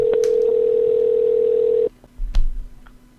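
A loud, steady telephone dial tone sounds on a call to a scammer, cuts off after about two seconds, and is followed by faint clicks and a brief low thump.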